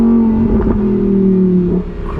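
A Lamborghini Huracan EVO Spyder's V10 revs hard and loud through its exhaust as the valves open, a sustained, rising engine roar from close by with no talking.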